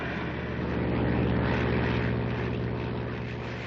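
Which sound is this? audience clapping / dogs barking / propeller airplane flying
propeller airplane flying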